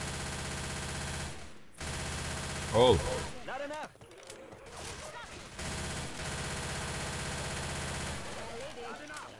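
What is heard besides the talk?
gunfire in a video game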